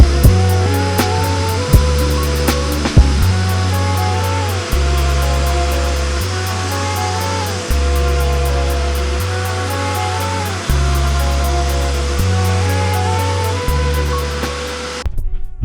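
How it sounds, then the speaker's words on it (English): An extraction vacuum worked back and forth over a stain, a loud steady motor drone whose pitch shifts in repeated strokes, with occasional clicks and no talking. "to see if this extraction vacuum actually works properly"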